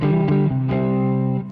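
Lap steel guitar played through a 2x10 cabinet at an edge-of-breakup tone, sustained harmonically rich chords changing twice, loud and close with slight grit, no talk.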